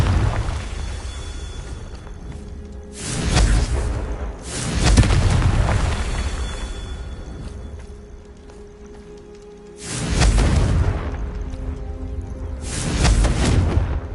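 Confringo spell blasts from the video game Hogwarts Legacy boom out as four loud, close explosions at uneven intervals, each a broad roaring burst over a continuous rumbling game background with no talk.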